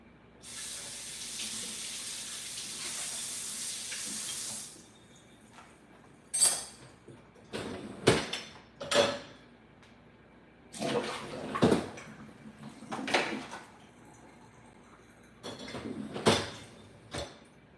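A kitchen faucet runs in a steady rush for a few seconds, then stops. Dishes are rinsed and handled in the sink, with short splashes and clattering bursts at irregular intervals. The sounds are close, and nobody speaks.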